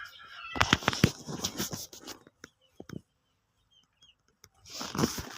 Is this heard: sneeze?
no